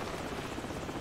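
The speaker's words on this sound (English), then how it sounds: "Hold on, the helicopter's back." A helicopter's steady rotor drone fills the clip, loud and continuous with a low rumbling chop, no voices present, in the video game Call of Duty 4: Modern Warfare.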